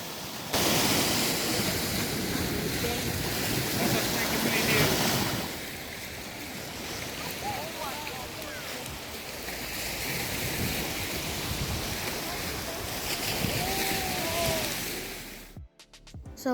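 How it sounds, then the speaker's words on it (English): Sea waves at Guild Park beach in Scarborough roll in as a continuous broad roar of surf, swelling and easing slightly, mixed with wind, and ending in a brief rustle. "So you can see the sea right here, and sometimes the waves get bigger than the normal waves"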